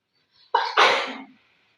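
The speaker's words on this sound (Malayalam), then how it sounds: "മഴ കഴിഞ്ഞ് തുമ്പലുണ്ട് അല്ലേ? തുമ്മൽ അല്ലേ?" One sharp human sneeze, a brief catch of breath and then a loud burst that fades within a second, close up, with quiet before and after.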